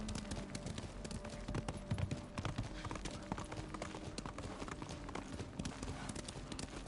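Horse hooves clip-clop steadily in Ghost of Tsushima, a brisk running gait heard close up within a busy game soundscape, with a faint steady tone and occasional voice-like sounds mixed in.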